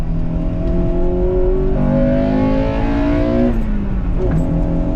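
A 1998 Acura Integra Type R four-cylinder engine drones loud and close, its pitch climbing steadily through a rev, dipping briefly and rising again, with no voices over it.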